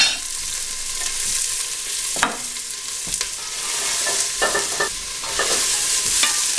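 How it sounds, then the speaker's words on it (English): Chopped onions and garlic sautéing in oil in a stew pot, with a continuous bright sizzle and repeated scraping stir strokes up close, no talking. "The benefit to sauteing up the onions and the garlic is you get a lot more flavor from them"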